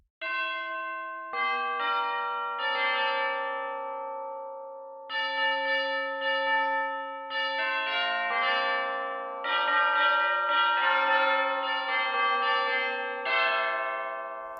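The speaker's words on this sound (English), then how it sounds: "Finally, the tubular bells." Tubular bells from an orchestral sample library play a slow melody of struck chimes, each note ringing bright and long, with overlapping decays forming rich chords and clusters, clean and up front.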